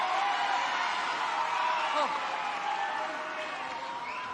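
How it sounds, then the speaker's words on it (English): A stadium crowd at a women's Six Nations rugby match between Ireland and France cheers and applauds in a sustained, dense roar, with whoops rising over it and a commentator talking throughout. "The crowd are getting behind them."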